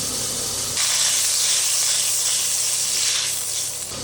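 Butter sizzling in a hot wok, a loud, bright hissing that surges in suddenly and holds steady close up for several seconds, with no talk.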